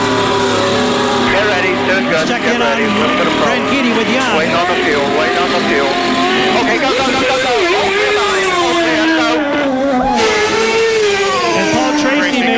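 A CART race car engine revs loudly in the pit lane at Road America in 1999, its pitch climbing and falling, while an excited voice shouts over the noise.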